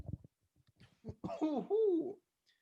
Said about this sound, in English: I have such a bad cough.